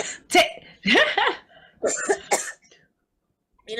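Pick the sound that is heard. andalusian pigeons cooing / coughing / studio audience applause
coughing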